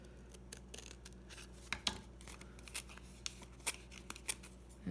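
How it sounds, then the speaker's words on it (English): Scissors making small snips in the side of a paper card, faint, close crisp cuts scattered irregularly over a quiet room hum. "we're going to just make a little snip"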